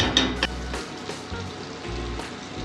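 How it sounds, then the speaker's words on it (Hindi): Onions frying in a pan with a little olive oil and butter, a close sizzle broken by a few sharp clicks and taps of stirring, with low thumps underneath and no talking. "मु पियाज पकई भाजी"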